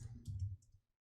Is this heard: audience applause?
no